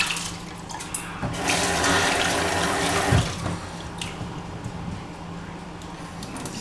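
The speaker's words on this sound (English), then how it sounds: "I will be washing off this rice thoroughly until the water becomes translucent" Rice is washed under a running kitchen tap, with water splashing steadily into a bowl or sink for several seconds and brief louder sloshes as the grains are stirred by hand.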